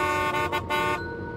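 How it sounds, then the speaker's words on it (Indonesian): A car horn honks at a roundabout in a steady, loud blast with brief dips, sustained for over a second before easing off. "kita harus membunyikan klakson"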